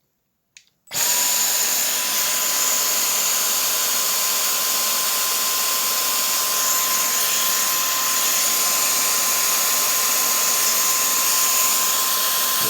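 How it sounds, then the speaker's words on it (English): A Dyson cordless hand vacuum cleaner clicks, then starts abruptly and runs with a steady, loud high whine and rushing air for over ten seconds without pause. "Let's start it up."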